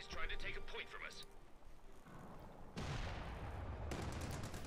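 Machine gun fire in Company of Heroes 2 crackles in sustained bursts amid battle noise, with a commentator talking over it throughout.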